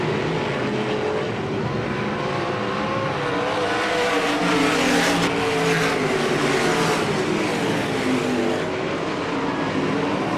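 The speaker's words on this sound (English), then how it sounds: "Start of the feature as Ben Rutan slides high coming out of 2" Race cars roar around a short track during the start of a feature race, a dense continuous engine drone with overlapping revving from the pack, steady and moderately loud throughout.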